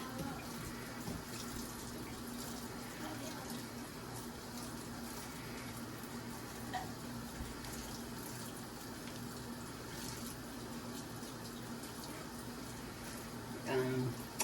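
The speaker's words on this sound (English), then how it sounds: "Kind of get them soapy. Wash the fish down." Tap water running steadily into a sink while freshly caught bluegill are washed by soapy hands, a constant close hiss and splash throughout, with a brief louder splash near the end.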